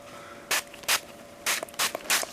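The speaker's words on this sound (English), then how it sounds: "I will spray it with Savlon" Savlon antiseptic sprayed onto a face mask, five short hissing bursts from a spray bottle in quick succession at close range, each a brief airy puff against a quiet background.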